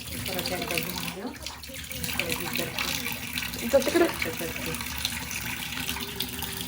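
Tap water runs and splashes while a goat's head is washed for mutton, a steady gushing stream throughout with a voice speaking briefly over it.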